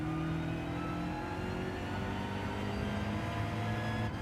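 A BMW race car engine in Gran Turismo 7 during a night endurance race, revving steadily and loud and close with a droning multi-tone whine that shifts pitch slightly, no talk.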